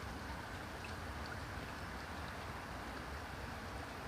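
Steady rain falls over a fishing lake, a continuous soft broadband hiss with no distinct drops standing out and no voices.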